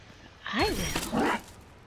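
A dog barks and yips in the Dragon Age: Inquisition Trespasser expansion, giving two short, loud vocal bursts close by in an otherwise quiet moment.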